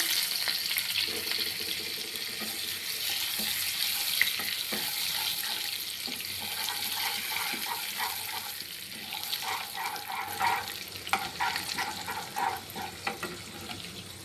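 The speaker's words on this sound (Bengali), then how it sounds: "চিকেন ভাজার যে তেলটা আছে ওই তেলেই একটু বাটার দিয়ে দেবো।" Butter melting into leftover chicken frying oil while a butter chicken masala gravy is started, a steady close hiss and sizzle with faint clinks and stirring scrapes, no talking.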